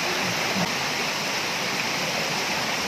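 A wide river flows with a continuous rushing, waterfall-like roar, loud and close, with no talk.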